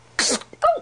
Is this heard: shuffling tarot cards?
no